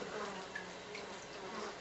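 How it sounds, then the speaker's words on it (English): A newly delivered package of about 10,000 honey bees gives a soft, continuous buzzing hum, faint and close, with no talk over it. "all of those little things that you see moving are bees"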